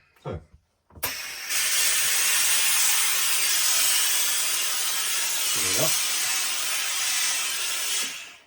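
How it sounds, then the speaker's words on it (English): Steam hisses steadily onto a felt trilby hat being reblocked over a hat block, starting abruptly after a brief clunk and continuing as a loud, even jet for about seven seconds with a small knock partway through. "So I'm going to put some steam on it and put it over this block."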